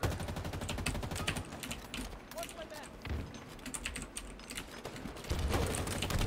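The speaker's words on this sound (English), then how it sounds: "Where are they shooting from?" Rapid gunfire in a team shooter video game crackles in quick repeated bursts, fairly faint and mixed with busy clicking throughout.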